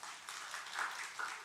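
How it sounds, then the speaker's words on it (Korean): Soft, distant clapping from a church congregation during a sermon, brief and fairly faint, with a few slightly louder claps standing out. "여러분 박수 한번 해주세요."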